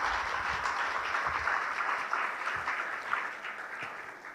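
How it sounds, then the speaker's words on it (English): An audience at a talk on India's G20 presidency applauds Ambassador Chinoy with sustained, fairly loud clapping from a large room. "I want all of us to applaud Dr. Chinoy, Ambassador Chinoy, for his wonderful contributions."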